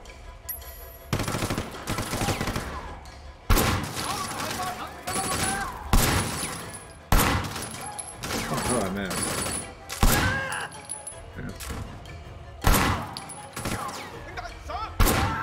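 Gunfire in the video game Sleeping Dogs: repeated loud bursts of shots and rapid automatic fire in clusters across the whole stretch, with a voice talking now and then amid the shooting.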